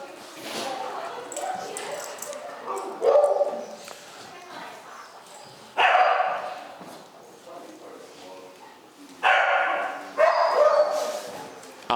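Two dogs interact, whimpering and barking in short bursts: three loud barks stand out over softer whines and movement, and voices are faintly present.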